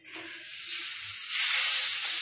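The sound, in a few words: chili powder sizzling in hot oil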